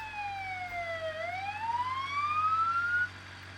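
A police car siren in the BeamNG.drive driving game wails steadily, its pitch dipping and then rising smoothly over a low engine rumble at moderate volume, then cuts off near the end.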